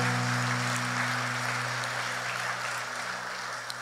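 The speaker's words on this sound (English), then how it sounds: "Let's clap our hands to the Lord." Congregation clapping hands at a church service, a dense and continuous patter over a low sustained tone, fairly faint and steady.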